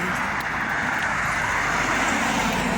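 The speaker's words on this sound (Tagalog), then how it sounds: "parang marami naman sasakyan" Street traffic in Lebanon, with cars passing in a continuous broadband wash of road noise, steady and moderately close, no voices over it.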